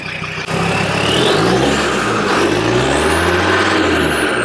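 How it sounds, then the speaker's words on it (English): A Land Rover engine revs up and holds at high speed, a loud steady roar with rising and falling pitch, close by and continuous. "Let's see if we can get him to give it a little rev."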